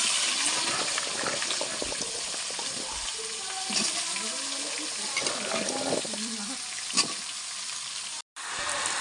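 Vegetables tumble into hot oil already tempered with five-spice (panch phoron) and whole cumin, setting off a loud, steady sizzle with scattered stirring clatter that runs nearly unbroken before a brief cut near the end.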